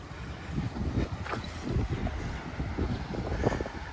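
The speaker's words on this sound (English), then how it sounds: "Windy, Paul." Gusty wind at a beach by the Gibraltar–Spain border buffets the microphone with low rumbling blasts, rising and falling continuously for a few seconds.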